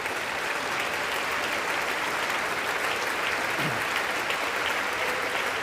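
A packed chamber applauds at the State of the Union, with dense, continuous clapping that stays loud and even throughout.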